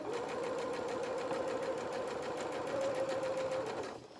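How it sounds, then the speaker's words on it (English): A sewing machine runs steadily for about four seconds, stitching the fabric limb pieces of a donkey toy, a continuous close whirring hum that winds down right at the end. "We don't sew over pins because it can mess up your machine."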